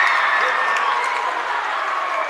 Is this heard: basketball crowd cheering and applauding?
yes